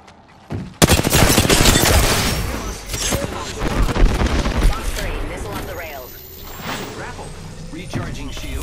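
Apex Legends firefight: a heavy opening blast followed by dense, sustained rapid gunfire and impacts, loud and close, with voice lines spoken over the shooting.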